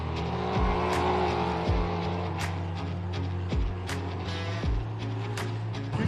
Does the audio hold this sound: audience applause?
no